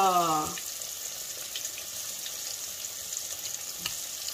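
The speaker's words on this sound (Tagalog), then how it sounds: "Sa isang hinuhulog natin sa kumukulong mantika." Chicken pieces for crunchy fried chicken deep-frying in boiling oil, a steady fizzing sizzle throughout after a brief voiced sound at the very start, moderately loud and close with no talk over it.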